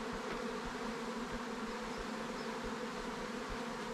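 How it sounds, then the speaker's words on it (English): Honey bees swarm around the front of a hive in a new bee yard, producing a continuous close, steady buzzing drone with no talk over it. "look at the bees on the front of that."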